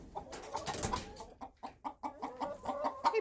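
Clucking from a laying hen in a homestead coop during egg collection, a run of short, repeated near clucks with quick rhythmic bursts across a few seconds, no talk over it.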